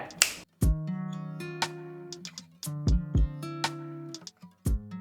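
Crisp finger snaps, six or so in an uneven rhythm, each sharp crack followed by a ringing tonal tail, close and clean with no talk.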